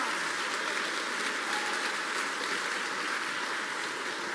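Church congregation applauds at a preacher's call, a dense, steady roar of clapping that stays even and loud from start to end with no voices standing out.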